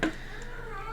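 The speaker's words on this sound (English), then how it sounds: "Sorry guys if you can hear the cat in the background." A cat meows once in the background of a room, a brief faint call at the very start over steady low hum.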